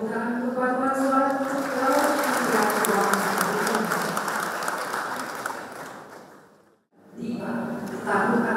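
Sustained audience applause for a choir at an Indonesian government budget ceremony, a dense steady wash of clapping that fades out near the end before sound resumes, with voices mixed in.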